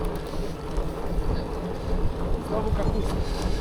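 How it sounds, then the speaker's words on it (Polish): Strong wind buffets the microphone outdoors, apparently while riding on a boat, a continuous rough low roar with gusty swells throughout. "Mamy w twarz wiatry"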